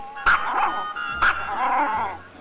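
Two sharp, high-pitched dog barks, a small dog yapping twice about a second apart, close and loud with a whiny edge.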